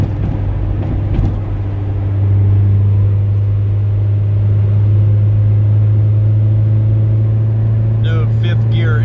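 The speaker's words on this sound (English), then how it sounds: "Since I put that lightweight flywheel, it does accelerate a little faster. You can feel it pull harder." A 1994 Acura Integra LS fitted with a lightweight flywheel accelerates, heard from inside the cabin as a loud, steady low engine drone that swells slightly after about two seconds and holds to the end.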